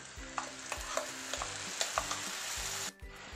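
Tomato puree from two tomatoes poured into a pan of fried onions while cooking matar paneer: a loud, steady sizzle broken by repeated scraping stirs, with a brief drop near the end.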